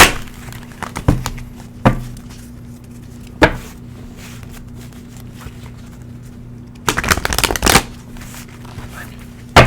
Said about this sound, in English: let's pull a card for each sign